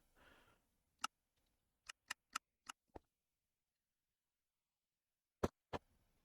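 Sieve machine running in Minecraft gives a series of sharp, isolated clicks, a quick cluster of five followed by a pause and two more, against near silence.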